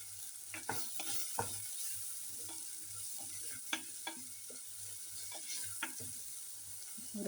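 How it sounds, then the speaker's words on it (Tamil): Brinjal (eggplant) pieces frying in oil without salt give a faint, steady sizzle with scattered soft scraping clicks from stirring, quiet and close, no talk. "எண்ணெய் கத்திரிக்காய்க்கு உப்பு போடாமல் பொரிச்சு பாருங்க, எண்ணெய் ஒடிக்காது கத்திரிக்காய்"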